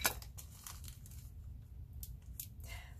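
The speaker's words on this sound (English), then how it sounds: "I think the hardest part right now is getting these little plastic bags open." Faint crinkling and tearing of small plastic bags being fumbled open while sorting diamond painting beads, a string of soft rustles and snips close by with no talking.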